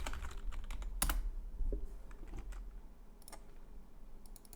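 Computer mouse clicking at a desk, a few sharp, close clicks scattered among quiet tapping, with no talking.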